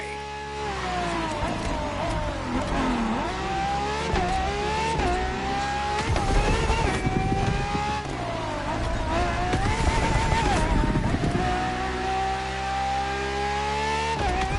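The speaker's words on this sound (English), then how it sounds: "For this second lap, you'll be driving the FXXK." Ferrari FXX K racing in a video game, a loud high-revving engine climbing and falling through gear shifts, with brief tire squeal and no talking.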